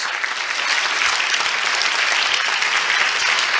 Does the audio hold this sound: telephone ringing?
no